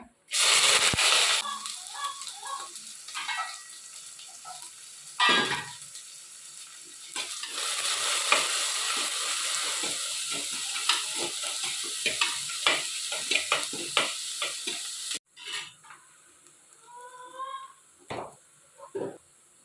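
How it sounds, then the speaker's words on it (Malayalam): Shallots, ginger, garlic and curry leaves dropped into hot oil in a village kitchen burst into a loud crackling sizzle, then settle into a steady popping fry with occasional stirring clicks, before a quieter stretch at the end. "ഇനിയിപ്പോൾ ഞാൻ ചെറിയുള്ളിയും ഇഞ്ചിയും വെളുത്തുള്ളിയും പിന്നെ കറിവേപ്പില എല്ലാം കൂടെ എടുത്ത് വെച്ചിട്ടുണ്ട് കേട്ടോ. അതിട്ടിട്ട് മൂപ്പിച്ചെടുക്കാം."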